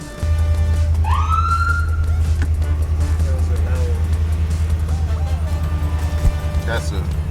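A short rising police car siren whoop cuts in briefly over a loud, steady engine rumble, then fades, leaving only the idling drone and faint background noise.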